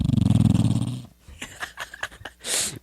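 Recording of a fat dog snoring, played on a sports podcast: about a second of loud, rapid rhythmic snorting breaths, followed by quieter scattered sounds and a brief burst of noise.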